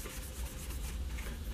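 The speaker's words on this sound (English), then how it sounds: "I'm using the gray Scotch-Brite." Gray Scotch-Brite pad scrubbing the finish off a CZ P10C pistol barrel, a soft, quiet, continuous rhythmic rubbing close up.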